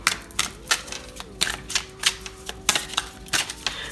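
Tarot cards drawn and handled during a pick-a-card reading, giving a string of quick, crisp slaps and flicks at an irregular rhythm, close and moderately loud with no talking.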